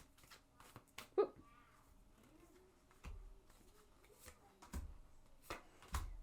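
A deck of tarot cards being shuffled by hand, giving soft riffling flutters and taps in short irregular bursts, close but quiet, with a few faint low murmurs in between.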